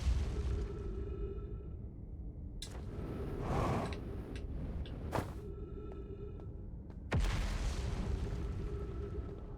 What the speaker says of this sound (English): Oh, they're science explosions, right.